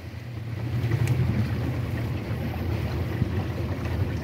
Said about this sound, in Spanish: Aquí anda haciendo el entrenamiento de manejar lancha de timón